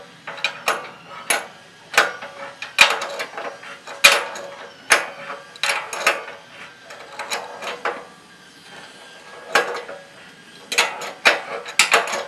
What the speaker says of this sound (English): Quite a few turns on the wrench.